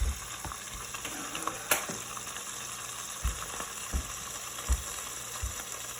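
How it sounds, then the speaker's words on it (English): Turkey bacon sizzles steadily in a pan as its edges crisp, a constant close frying hiss broken by a few sharp pops and soft clunks. "the bacon's starting to crisp on the edges"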